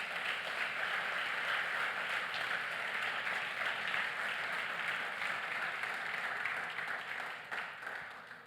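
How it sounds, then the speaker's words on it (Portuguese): A church congregation applauds in sustained, steady clapping that fills the room for several seconds, then gradually tapers off near the end. "Você pode aplaudir Ele"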